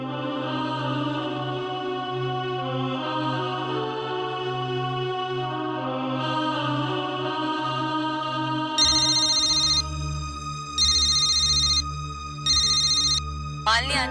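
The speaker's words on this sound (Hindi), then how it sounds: "मैं फोन लगाती हूँ उसे" A phone rings on an outgoing call, a steady repeating ringback tone pulsing three times in short bursts, preceded by a soft musical background with no talking.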